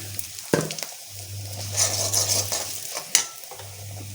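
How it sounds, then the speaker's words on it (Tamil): Curry leaves and asafoetida sautéing in a pan for a taro root buttermilk gravy, with a steady close sizzle, spoon stirring and scraping, and a couple of sharp clinks against the pan. "கருவேப்பிலை இது வதக்கிட்டு"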